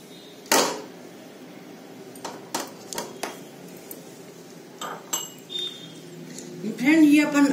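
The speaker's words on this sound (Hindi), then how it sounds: "अब देखिए ये डाल दी है मटर, ये इसमें ही बहुत आसानी से कुचल जाती है" Boiled-free green peas are crushed inside a small kitchen vessel, giving sparse, sharp clinks and taps of a utensil against the pot, with quiet pauses between the knocks.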